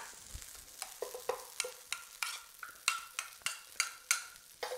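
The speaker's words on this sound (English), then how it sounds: "we want to just fry this off now, only on a medium heat, not a red hot heat yet, and just let it infuse with the oil" Panang curry paste frying in oil over medium heat, with a steady soft sizzle broken by a regular series of sharp spatula strokes scraping the pan, close and moderately loud, with no talking.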